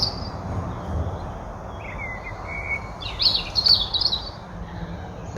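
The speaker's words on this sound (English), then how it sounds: "We've got a robin just on our right here," A robin sings from a hawthorn bush at dawn, its thin, high warbling phrases clearly audible over a steady background chorus of other birds, with the strongest bursts toward the end.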